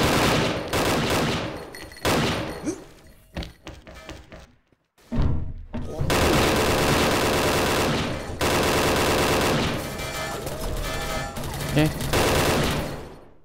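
Rifle fire from a Golden AUG in the shooter game XSHOT, loud rapid bursts of automatic shots separated by short pauses, with one brief silent gap and a few words spoken.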